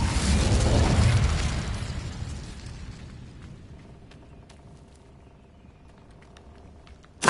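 A fiery Incendio spell blast in Hogwarts Legacy bursts loudly at first, then rumbles and fades into a long crackling tail with faint ticks, and a sharp new hit lands at the very end.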